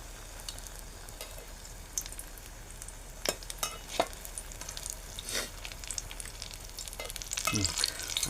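Shiralyachi bhaji (ridge gourd fritters) crackle and sizzle in hot oil while being turned over, a steady frying hiss broken by sharp spatters and a few scraping flips of the spatula.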